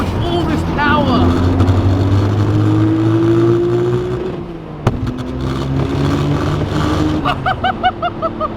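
A twin-turbo RB26 engine in a Datsun 240Z with N1 turbos revs hard under acceleration, a loud rising snarl that drops at a gear change and climbs again, ending in rapid pulsing bursts.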